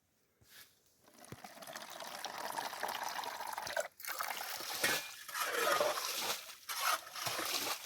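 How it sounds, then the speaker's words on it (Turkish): Water trickles and splashes from a public street fountain just brought back into use after repair, starting faintly then flowing steadily with uneven gurgling surges and drips, close by and without talk. "Orada çeşmeden su gelecek mi?"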